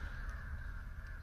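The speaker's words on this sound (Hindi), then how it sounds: "लेकिन कौआ लोगों की बड़ी भयंकर आवाज है, कोई कौओं की पंचायत चल रही है।" Crows caw harshly in a wooded area near an old palace, a steady noisy chorus that stays fairly distant and fills the background without a break.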